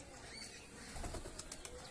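Pigeons escaping a trap on a cloudy day give a brief burst of flapping wings midway through an otherwise faint, quiet stretch.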